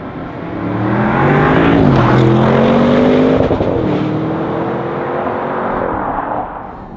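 An Audi RS6 Performance estate driving on British roads, its engine note rising and shifting through gears with steady tyre and road roar, loud and close throughout with no talk.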